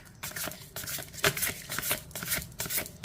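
Tarot cards shuffled by hand during a reading, a quiet run of crisp riffling bursts and soft slaps repeating in quick irregular rhythm, close and alone.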